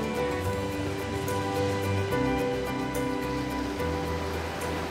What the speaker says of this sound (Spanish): Sus grandes y constantes olas son un imán para los surfistas.